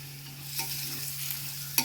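Bitter gourd hits hot oil in a frying pan and is stirred, a steady sizzle with scraping strokes and a sharp clink near the end, with no voices.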